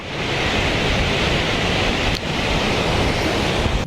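Flood water from a lake rushes nearby in a loud, continuous roar, a dense steady wash of noise with no voices over it.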